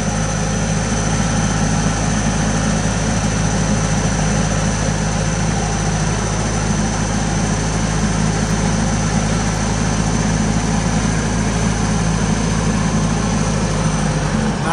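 A Hyster H50XL pneumatic-tire forklift with a 3.0 liter LP gas engine runs steadily, a loud, even engine drone that holds unchanged throughout with no speech.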